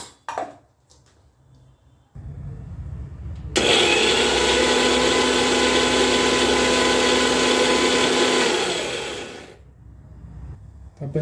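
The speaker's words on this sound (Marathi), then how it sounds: "याला फक्त आता आपण बारीक करून घेऊया." A kitchen mixer grinder roars loudly and steadily for several seconds while blending a peeled drumstick mixture, then winds down, with quieter handling sounds before it starts.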